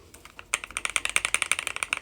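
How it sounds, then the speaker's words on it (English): A keyboard fidget toy fitted with both clicky and creamy switches, pressed in a fast run of sharp, close clicks and clacks with a steady rhythm, all of it without any talk. "I don't have a keyboard fidget which has both clicky and creamy switches"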